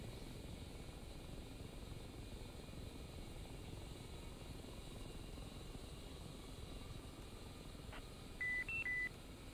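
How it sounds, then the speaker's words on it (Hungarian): A message alert tone sounds in the flight simulator DCS World: a short series of clear electronic beeps near the end, over a constant helicopter engine and rotor drone. "Tehát ez a üzenetjelző hang."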